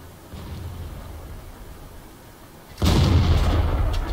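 A tank cannon fires a single blind shot in World of Tanks, from an Object 416 during a match: a low engine rumble, then one loud, sudden boom that rolls into a sustained roar of echo and noise.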